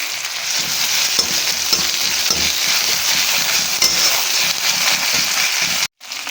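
Sliced onions and green chilies fry loudly in a pan, a close, dense sizzle broken by rhythmic scraping and clinks of a stirring spoon, with no talk; it cuts off abruptly near the end.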